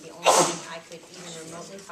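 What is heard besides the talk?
sneeze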